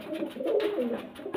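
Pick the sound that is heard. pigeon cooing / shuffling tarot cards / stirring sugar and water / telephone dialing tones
pigeon cooing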